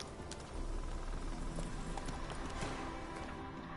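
Roach the horse gallops in the video game Witcher 3, a rapid run of clip-clop hoofbeats over a dense rumbling bed, steady and fairly close, with no talk.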